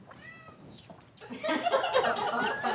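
A human voice imitates a father seagull's call, opening with a short nasal cry and pitched squeal, then breaking into a louder, rough, warbling screech that carries to the end.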